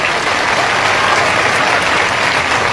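Crowd at a Maratha community rally breaking into sustained, loud applause, dense steady clapping filling the whole stretch with no speech over it.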